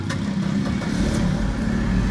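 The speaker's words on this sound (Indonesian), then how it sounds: "Sekali starter saja mobil menyala sob" A 1995 Mercedes-Benz W202 C200 engine runs steadily and loud throughout, a continuous low rumble close by with no pause for cranking, no one speaking.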